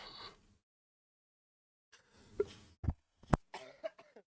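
A sick person coughs several times in harsh, close bursts after a short silence, with a couple of throat-clearing sounds mixed in.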